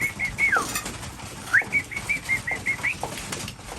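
Pigeons or doves coming back from a short flight on a hot day call with repeated whistling coos and brief rising notes, with occasional wing flaps, fairly close and with no talking.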